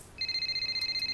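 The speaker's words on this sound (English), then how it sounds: "Oh, a phone call." A phone rings in the racing game F1 23 as a close, steady electronic ringtone of rapid repeating beeps that starts abruptly and runs on with no talk.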